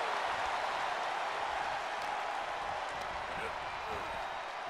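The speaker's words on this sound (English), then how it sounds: "What a raucous crowd here tonight." A crowd in a wrestling arena roars and applauds in a steady, dense wash of noise, with a commentator talking over it throughout.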